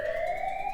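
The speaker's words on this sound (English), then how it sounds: "that sounds like a fire alarm" A steady electronic fire alarm siren from the video game Zero Escape, a sustained two-tone wail slowly rising in pitch, moderately loud with no talk.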